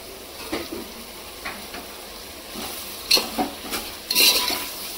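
Chopped tomatoes stirred while frying in a pan, a low sizzle under intermittent scrapes and clinks of a spoon against the pan, growing busier toward the end, close and clear.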